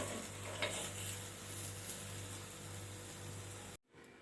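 Banana paniyaram sizzling steadily in a hot pan as each one is turned, with faint scraping of a utensil against the metal, then the sound cuts off abruptly near the end.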